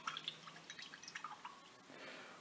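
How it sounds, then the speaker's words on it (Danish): A coin is rinsed under water, giving a quiet patter of drips and splashes followed by a soft steady trickle of running water, faint and close. "Så den skylles i vand"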